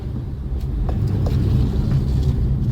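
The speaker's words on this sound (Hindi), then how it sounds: "बहुत स्लो गाड़ी चल रही है यहाँ तो यार" A car moves slowly along a narrow mountain road from Rajouri to Srinagar, giving a steady, close low rumble of engine and tyres with faint ticks and rattles, no voices.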